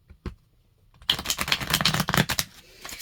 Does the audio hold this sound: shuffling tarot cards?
yes